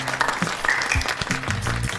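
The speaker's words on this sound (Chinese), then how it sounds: "大家鼓掌欢迎。" Brief applause from a group welcoming a new colleague who has just joined a police serious-crimes team, a short burst of clapping in an indoor office setting, mixed with a faint tonal background.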